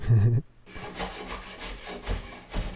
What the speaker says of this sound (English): I just wanted to trim off the extra edges